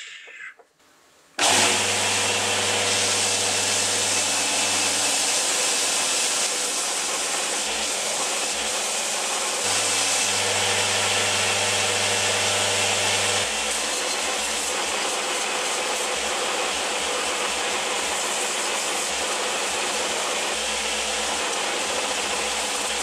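An electric belt sander smooths the flat bottom and rounded edges of a wooden climbing hold: the motor starts abruptly and runs loud and continuous at close range, with the pitch shifting slightly as the wood is pressed against the belt.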